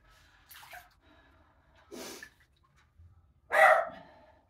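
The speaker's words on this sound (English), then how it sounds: "You can hear a dog barking." A dog barks three times, spaced a second or so apart, at moderate distance in an otherwise quiet outdoor setting; the last bark is the loudest.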